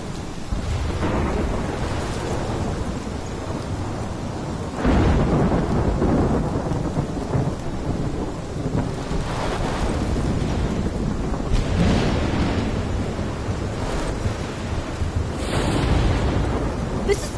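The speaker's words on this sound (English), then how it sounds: "My storm!" Thunderstorm from the video game Life is Strange, with steady heavy rain and repeated rolling thunder swelling across the whole stretch, loud and close, with no talk over it.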